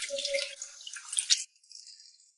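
Cabbage leaves are rinsed in a basin of clean water, a short burst of splashing and swishing for about a second and a half, then fading to faint trickles and drips, close and with no talking.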